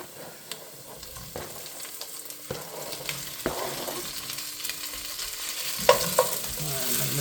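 Kielbasa sausage going into a pan with cabbage for Southern fried cabbage, giving a steady close sizzle broken by sharp clinks and scrapes of stirring, with a few louder clatters near the end and no talking.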